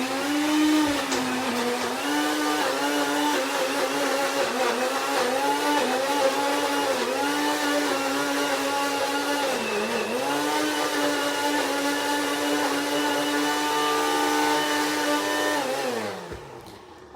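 A blender runs continuously on strawberries for a raw keto marmalade, a loud, close, harsh motor whine that holds steady with slight dips in pitch before it winds down and stops near the end.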